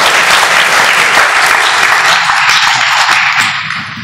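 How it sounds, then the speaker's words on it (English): A large audience at a talk on digital currencies applauds steadily for Roger Ver, CEO of Bitcoin.com, the dense clapping loud and continuous throughout before thinning slightly at the end. "Let's give him a big round of applause."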